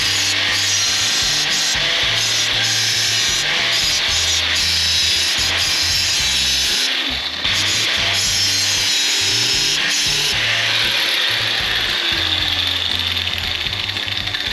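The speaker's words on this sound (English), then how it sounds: "My grinder won't care." An angle grinder cuts through metal on a 1928 Ford Model A gasser rat rod, a loud continuous abrasive whine and rasp with brief dips and changes in pitch as the cut goes on, with no voices.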